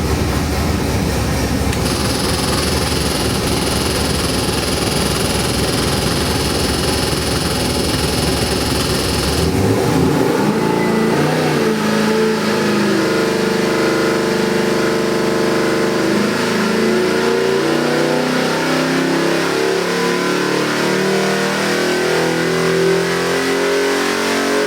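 A Ford Godzilla 7.3L V8 crate engine, rated 625 hp, running on its own: a loud, steady roar that drops into a smoother, lower idle with a shifting tone partway through.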